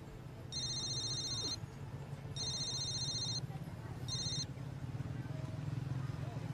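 A telephone rings in three electronic trilling bursts, the last one shorter, over a steady low rumble of background noise.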